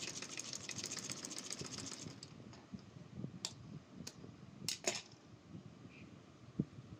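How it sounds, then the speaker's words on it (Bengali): A sewing machine stitching the neckline corner of a kaftan: a soft rapid mechanical whirring for about two seconds, then quieter handling with a few sharp clicks and taps, fairly faint and without voices. "এখন উল্টিয়ে এই কোনাটা ভালোভাবে সেলাই করে দিচ্ছি"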